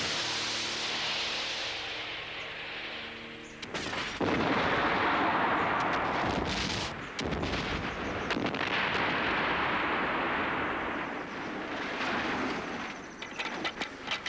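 A model rocket launches for a 1988 low-budget film shoot, giving a long roaring rush with sharp cracks and a broad blast, loud and close and with no voices.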